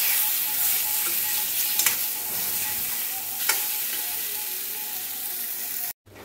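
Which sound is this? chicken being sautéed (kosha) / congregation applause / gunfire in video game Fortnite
chicken being sautéed (kosha)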